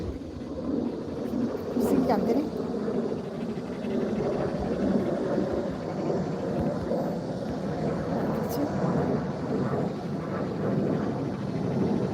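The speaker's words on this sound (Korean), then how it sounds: "비행기 간다." An airplane passes overhead as a low, continuous distant rumble that swells slightly and lingers for several seconds, while people talk quietly indoors nearby.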